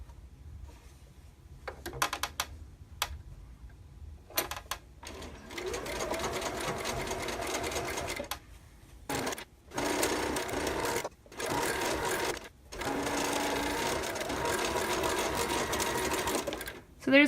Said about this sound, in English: So there's a great example of chain stitching.